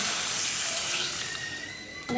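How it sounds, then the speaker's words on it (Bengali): Water poured into a cooking pot of taro curry on a home stove: a steady, close rushing hiss of flowing liquid that tapers slightly near the end, with no talking. "পানিটা দিয়ে দিব"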